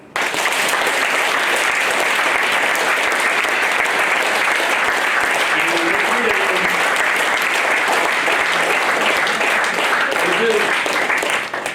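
Dense, loud applause from a room full of MBA students at an orientation programme, sustained and even for around eleven seconds before cutting off, with some voices mixed in.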